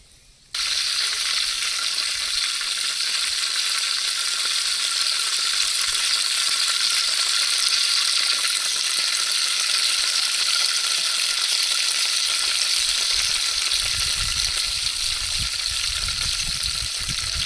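Onion hitting hot oil outdoors at a field crab party, bursting into a loud, dense, continuous hiss after a brief quiet start and holding steady, with low rumble creeping in near the end.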